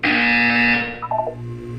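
A single loud electronic buzzer blares steadily for under a second in a Portal 2 test chamber, then cuts off into a brief tonal chirp and a low hum.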